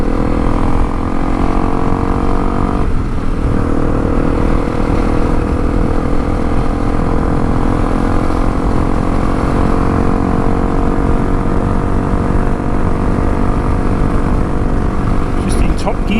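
A Honda CRF300L Rally motorcycle engine drones steadily while cruising in top gear, with loud continuous wind rush over it for the whole stretch and no change in pitch.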